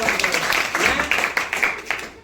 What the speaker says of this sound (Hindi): जोरदार तालियां के लिए मारेंगे।